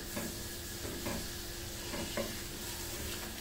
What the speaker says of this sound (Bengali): এই দেখুন চিনি শিরাতে বলক এসে গেছে